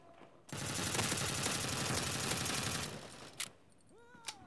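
FAMAS automatic rifle fire in Bullet Force, one long rapid continuous burst of about two and a half seconds, loud and close, followed by a couple of sharp clicks and a brief game tone.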